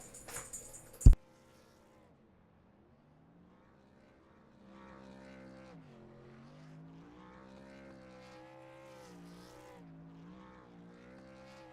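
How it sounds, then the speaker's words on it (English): A stock truck in iRacing doing burnouts on the front straightaway at Iowa, a quiet engine drone that wavers up and down in pitch as the revs swing, following a brief sharp burst at the start. "There he goes, doing burnouts now."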